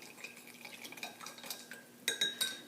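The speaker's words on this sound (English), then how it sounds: "I'm just going to use my teaspoon to stir that to dissolve." A teaspoon stirs a small mixture of rennet solution in a glass or cup, quick light clinks and scraping taps, faint and close, with a few brighter metallic rings at the end.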